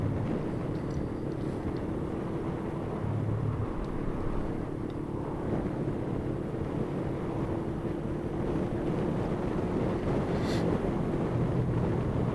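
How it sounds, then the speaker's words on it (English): Wind buffets the microphone during a motorcycle town ride in London, a constant loud roar of rushing air mixed with low engine drone that runs steadily throughout, with no voices. "Here comes the wind."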